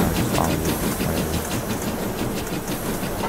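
A train passing in the Roblox game Jailbreak, a loud, steady, close rumble with rattling clatter and hiss that continues throughout without talking.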